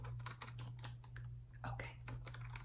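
Keys tap on a computer keyboard in quick, soft bursts during a quiet ASMR credit card application roleplay, with a low steady hum underneath and faint voice at moments.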